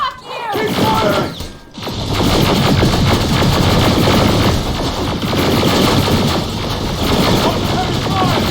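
Sustained heavy gunfire in the Terminator Resistance video game, a dense, loud barrage of rapid shots with mechanical clatter running almost continuously, broken only by a brief lull near the start.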